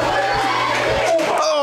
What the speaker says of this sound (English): You can see the crowd was pumped.